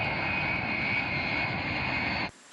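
Steady loud roar of an Algerian air force transport plane's engines carrying a vaccine cargo, continuous and close, cutting off abruptly near the end.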